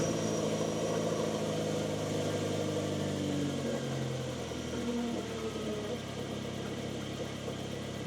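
A car engine runs at a steady idle after a fuel flow repair, a continuous mid-pitched hum with a slight dip in tone partway through, close and moderately loud, without speech.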